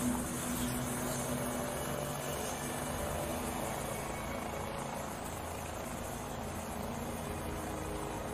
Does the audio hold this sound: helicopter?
yes